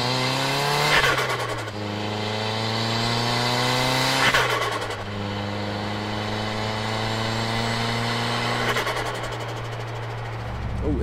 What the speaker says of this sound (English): It makes a lot of compressor surge as well.